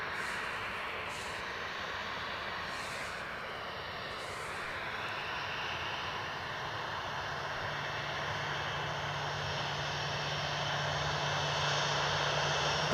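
A jet airliner departing Edinburgh Airport for London Stansted, its distant engine roar building slowly and steadily over several seconds, with a low tonal hum joining as the sound swells.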